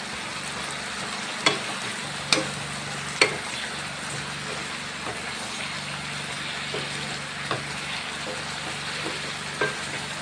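Avial vegetables for an Onam feast are stirred with chilli powder in a pan, giving a soft, continuous sizzle and several sharp spoon taps and clacks against the pan.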